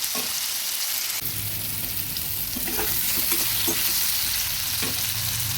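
Banana flower curry with potato sizzles loudly in a pan as it is stirred, a dense close frying hiss broken by scraping and knocking of the spoon against the pan.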